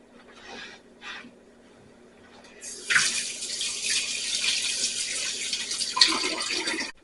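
Water runs steadily from a tap over tomatoes for several seconds, a loud broadband rush starting after some quieter handling sounds.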